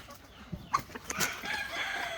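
Chickens at a poultry gathering cluck and squawk in short, scattered calls, a few sharp nearby bursts over a faint, busy background of farm noise.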